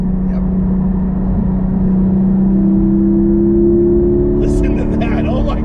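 A stock-exhaust 2020 Porsche GT4 flat-six engine drones loudly and steadily from inside the car, its pitch climbing gradually as it revs. There is a brief rustle near the end.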